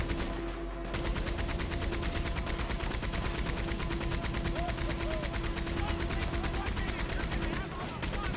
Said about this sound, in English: I'm going to get on the Gatling gun